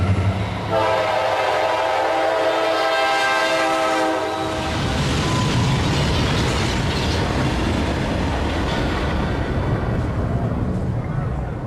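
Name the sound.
train thundering along the track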